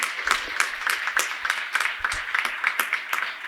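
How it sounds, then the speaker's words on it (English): An audience at an HR summit claps in a steady, moderately distant round of applause, with many hands blending into a continuous patter. "May I request all of you to join hands, applaud both Ganesh Santosh and team and Dr. Ravichandran's team. Big round of applause."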